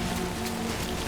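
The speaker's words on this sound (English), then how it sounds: "always raining too" Rain falling in the video game Death Stranding, a steady, faint hiss of drops spread evenly throughout with a low hum beneath, and no voices.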